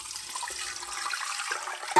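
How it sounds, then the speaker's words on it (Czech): Tap water runs steadily into a pot holding uncooked smoked meat, a continuous close, fairly loud splashing and rushing stream for the whole two seconds with a brief louder burst at the end. "Takhle ho zaliju vodou."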